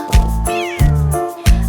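Cats meow loudly and close by, three distinct meows evenly spaced with a softer mew between them, set in a children's party song about a bakery.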